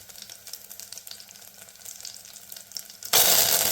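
Dried red chillies, bay leaf and cloves frying in hot oil: a low crackling simmer with light popping, then a sudden loud, bright sizzle bursts in near the end and holds, close by.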